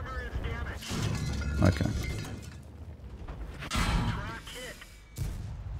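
Tank gun fire in World of Tanks from a Super Hellcat landing a tracking shot: a few loud, sharp, crashing blasts spaced a couple of seconds apart, mixed in with someone talking over the game.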